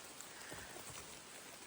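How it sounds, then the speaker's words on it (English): An afternoon rain shower on a forest stretch of the Appalachian Trail in southern Maine gives a faint, steady hiss of drops pattering on leaves and ground, with no voices. "rain shower."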